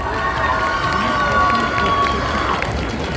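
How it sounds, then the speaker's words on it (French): At the Angers Geekfest 2024 cosplay parade, a large audience makes a dense, loud, continuous roar of applause and cheering, with a steady tone running through it. "On les applaudit très fort."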